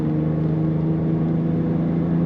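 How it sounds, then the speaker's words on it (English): A 2000 BMW Z3 exhaust idles with a steady, low rumbling drone, close and continuous. "Nice little rumble to that exhaust."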